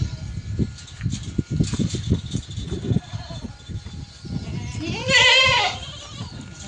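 Irregular knocks and thumps are followed by a single loud, wavering goat bleat up close, near a large tempo truck.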